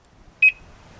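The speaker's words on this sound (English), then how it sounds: "One beep for lock." A single short, high-pitched electronic lock-confirmation chirp from an Audi TT Mk2 sounds once, clear and close, against a quiet background.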